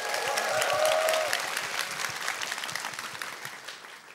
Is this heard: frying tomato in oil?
no